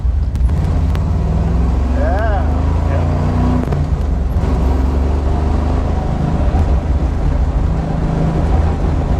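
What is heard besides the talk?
1971 Chevy Camaro engine driving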